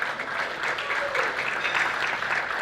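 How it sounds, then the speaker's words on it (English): An audience applauds at a symposium on Africa's brain drain in New York City, a steady wash of many people clapping at moderate level with no talk. "please give a round of applause to Dr."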